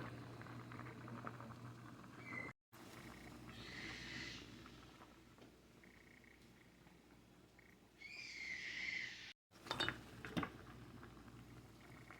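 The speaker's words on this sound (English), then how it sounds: "I'm going to pour the hot boiling water over them" Gentle bubbling and hissing of hot boiling water being poured over green and purple beans for canning, steady and close, with a couple of brief louder surges of gurgling and a short clatter near the end.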